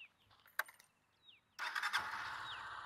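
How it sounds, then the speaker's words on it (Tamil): A Honda Unicorn 160cc motorcycle engine cranks with a few clicks, then catches and settles into a steady, smooth idle close by. "இன்ஜின் ஸ்டார்ட் ஆகும்போது ஸ்மூத்தாக ஸ்டார்ட் ஆகும்."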